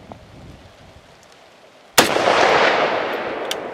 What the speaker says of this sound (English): We're going to take a shot